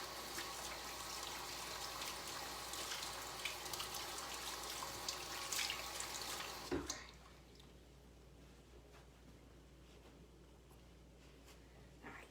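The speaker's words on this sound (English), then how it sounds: "There's a lot of like fat on my hands from the lamb and the yogurt, so I'm just trying to wash that off." A kitchen tap runs under hands being washed of lamb fat and yogurt, a loud steady gush with splashes for about seven seconds, then shutting off to faint drips and quiet.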